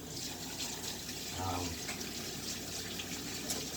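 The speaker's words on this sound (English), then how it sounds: "Let me just wash the soap residue off my hands first." Tap water runs over soapy hands at a sink after soap-making, a steady faint splashing stream with a person speaking softly over it.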